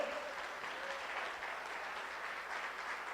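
A congregation at a church service applauds, a soft, steady spread of many hands clapping heard from a distance, even and sustained without breaks.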